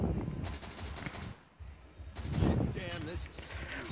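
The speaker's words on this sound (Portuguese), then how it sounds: "Eu não tenho certeza se ela é uma metralhadora ou se é um rifle. Mas deve ser uma metralhadora." Machine-gun fire in the zombie shooter game Unkilled crackles in bursts of rapid shots, loud and close, broken by a short lull, with someone talking over the gunfire.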